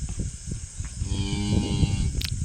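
A cow in labour, giving birth to a calf, lets out a long, drawn-out moo that swells and holds through the middle of the clip, close and loud, over rustling farmyard sounds.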